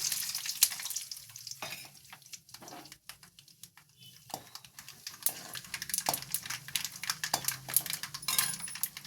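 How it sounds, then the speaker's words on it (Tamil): Peanuts and mustard seeds frying in hot oil for lemon rice, a steady close sizzle with scattered sharp pops and crackles throughout, no talking. "எண்ணெய் ஊற்றி கடுகு போட்டுக்கிறேன். இது வேர்க்கடலை போடுறேன்."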